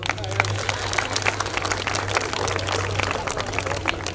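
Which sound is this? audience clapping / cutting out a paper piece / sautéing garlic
audience clapping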